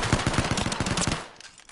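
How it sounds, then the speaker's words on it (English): P2020 pistol from Apex Legends firing in full auto, a rapid loud burst of about a dozen sharp shots in quick succession before cutting off into a short tail. "you want to see my P2020 auto weapon? Look, P2020 new auto weapon"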